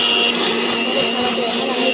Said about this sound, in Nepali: मिक्सरमा हालिसकेको छु